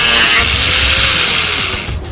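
A power sander runs loud and close with a harsh, broadband whine, holding steady before gradually easing off near the end, with no voices over it.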